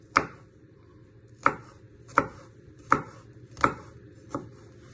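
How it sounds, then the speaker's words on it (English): A knife chopping garlic finely on a board: six crisp, evenly spaced strikes about a second apart, close and clear against a quiet background. "Then you turn it around and just slicing it nice and fine into little pieces"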